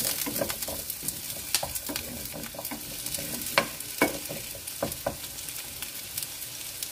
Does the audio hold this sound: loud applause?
no